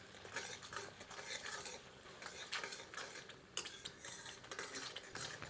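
Yellow bell pepper and garlic-ginger paste stirred in a pan over medium heat, with a steady close sizzle and repeated spoon scrapes and clinks against the pan.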